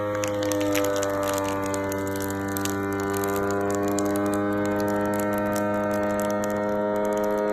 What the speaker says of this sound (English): Just press the vacuum and seal for dry